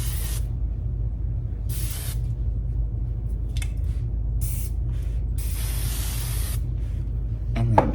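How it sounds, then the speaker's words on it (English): Hairspray sprayed onto hair during a makeup and styling routine: several sharp hissing bursts of varying length separated by short pauses, close and clear, with no talking. "Let me grab my hairspray."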